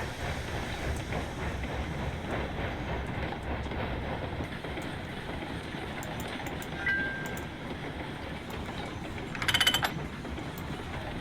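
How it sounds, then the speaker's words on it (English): A train rolls along the rails in the railroad game Railroads Online, a steady low rumble with rhythmic wheel clacks and a brief metallic squeal and clatter near the end. "I had to try sending this train on its way."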